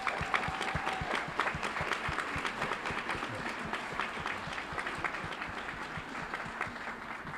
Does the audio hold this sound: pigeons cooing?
no